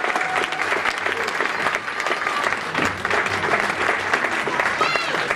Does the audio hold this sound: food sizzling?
no